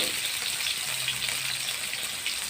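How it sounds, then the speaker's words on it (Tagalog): Steady broadband patter of rain drumming on a roof over a kitchen, continuous and even throughout, with a faint low hum underneath. "pasensya nyo na naririnig nyo sa bubong ng ulan"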